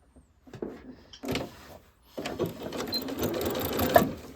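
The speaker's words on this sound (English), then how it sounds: "So now we can just go and start stitching here and stitch to here with back stitch at the beginning and the end." A sewing machine stitches binding onto a fabric table runner, with short bursts of rapid mechanical whirring, a pause, then a longer steady run close by.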